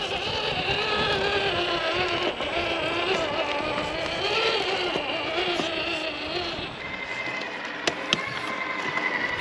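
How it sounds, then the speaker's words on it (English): A small diesel engine sound from a Traxxas TRX-4 2021 Bronco RC crawler drones continuously at a steady pitch, a buzzing motor hum with slight rises and a couple of sharp clicks near the end. "Diesel engine."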